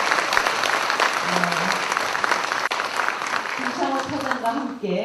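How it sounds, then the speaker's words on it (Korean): Sustained audience applause fills a book launch concert hall, a dense steady wash of many hands clapping, loud and continuous, with faint voices and brief tones rising near the end. "여러분 박수가 좀 작은 것 같습니다"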